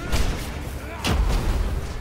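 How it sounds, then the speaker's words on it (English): A bombardment attack in the co-op action game Ravenswatch lands as two heavy booming impacts about a second apart, each a loud rumbling thud with crackling debris, over a steady bed of game noise. "He's doing his bombardment over here."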